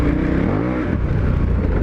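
A dual sport motorcycle on Mitas E-10 Dakar tires launches over rocks, its engine revving loud and close with a quick upward sweep in pitch before settling into a steady roar.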